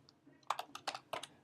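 Keys tapped on a computer keyboard while entering a WordPress login address, a few quick clicks followed by three short bursts of typing, close and moderately quiet.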